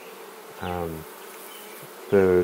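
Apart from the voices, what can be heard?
honeybees buzzing in hive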